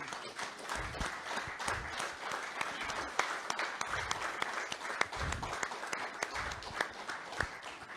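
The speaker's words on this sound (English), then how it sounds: "put the biggest round of applause for the women and the struggle that they have went" Audience applause at the 2022 Iowa Women's Hall of Fame ceremony, a steady wash of many hands clapping in a hall, moderately loud and sustained throughout with scattered sharper claps.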